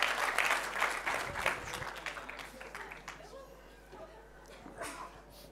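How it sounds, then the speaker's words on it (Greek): An audience at a shipping executives forum panel breaks into a burst of clapping that fades out over a few seconds, with speech continuing underneath. "Παλαμάκια παρακαλώ."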